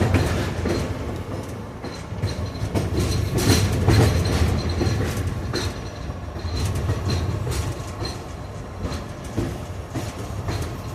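A CSX freight train rolls past nearby, a steady loud rumble of wheels with rhythmic clickety-clack over rail joints and occasional metallic squeals, continuous throughout with no talk.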